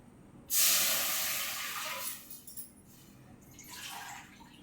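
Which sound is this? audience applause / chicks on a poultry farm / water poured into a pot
water poured into a pot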